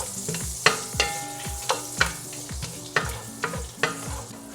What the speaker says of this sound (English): And I'm adding 4 cardamoms and about 5 peppercorns. Just going to saute that a little bit.